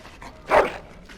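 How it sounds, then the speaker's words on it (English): A dog gives a single short whimpering yelp in the video game Dragon Age: Origins, close and clear against a quiet background. "Bloody dog."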